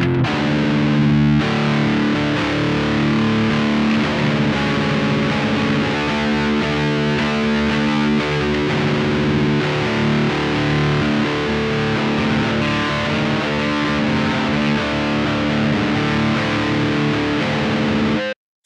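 Distorted electric guitar through a Behringer GI100 DI cab simulator in mode 1, giving a darker tone, playing sustained chords and riffs loud and continuously, with no talking, ending abruptly.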